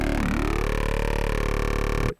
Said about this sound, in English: distortion of that talking robot man